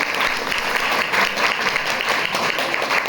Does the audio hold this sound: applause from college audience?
yes